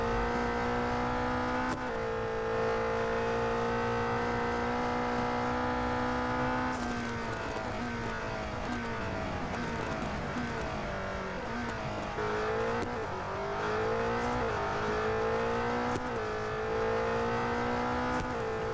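A Renault RS01 race car engine in the racing game Real Racing 3 screams at high revs and rises through repeated gear shifts, loud and continuous, with occasional tire squeal and no talk.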